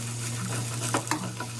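Eggplant stir-fried in oil in a pan, a steady close sizzle with a few light scrapes and clinks of the utensil against the pan.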